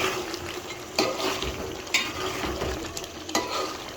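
Chicken curry frying in a pan with its own released juices and no added water, stirred steadily with a steady sizzle and a few sharp scrapes and clinks of the spoon against the pan.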